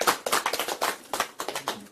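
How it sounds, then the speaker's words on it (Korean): A small group claps in a meeting room during a politician's courtesy visit to the Korea Senior Citizens Association, with brisk, close, separate hand claps in an uneven rhythm for about two seconds. "제가 박수."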